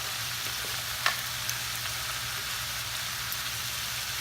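Sugar peas and shrimp sizzle in a hot pan with dark soy sauce, a steady dense hiss of frying with a few sharp clicks of stirring, close and continuous without talk.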